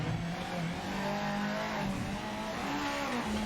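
A GT500 race car in the racing video game Project Motor Racing holds a loud, steady engine note at high speed down a straight, the pitch climbing gradually with a brief shift.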